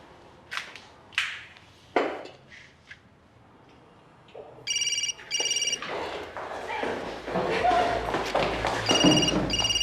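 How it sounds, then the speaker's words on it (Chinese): A telephone rings in a tense crime-drama scene, two clear electronic ring bursts after some thuds and knocks, then a denser ringing continues over room noise and movement. "接电话"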